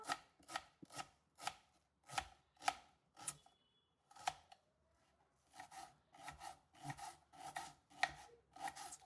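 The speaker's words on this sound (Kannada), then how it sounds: "ಇವಾಗ ನೆಕ್ಸ್ಟ್ ಸಣ್ಣದಾಗಿ ಈರುಳ್ಳಿ ಕಟ್ ಮಾಡ್ಕೊಳ್ಳೋಣ." A knife finely chops onion on a board for lamb trotter soup, close, crisp chops in quick rhythmic bursts of two or three with a short pause midway.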